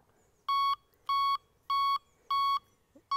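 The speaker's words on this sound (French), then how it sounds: "là je suis en niveau 2, vous avez entendu 2 bips" Four evenly spaced electronic beeps from a fishing bite alarm, each short and bright, followed by a faint click, with quiet background otherwise.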